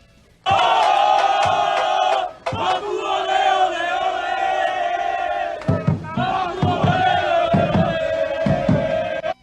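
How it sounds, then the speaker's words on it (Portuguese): Football supporters celebrate a 2–0 home win over Castanhal, a loud massed chant of voices rising abruptly, breaking off briefly, then surging again with rhythmic shouted bursts near the end. "E claro, a torcida comemorou a vitória em grande estilo."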